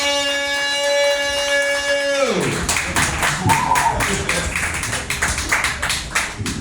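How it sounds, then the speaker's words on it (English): A sustained tone cuts off, then a crowd breaks into rapid, steady clapping that carries on loudly to the end. "Put your hands together right now."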